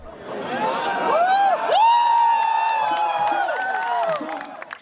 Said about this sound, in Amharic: ተመልካቹም በጩኸት ድጋፉን ይገልጻል።